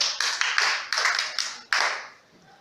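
A handful of separate, sharp claps ring out in a classroom, spaced irregularly and close by, with a short echoing tail after each before the room falls quiet.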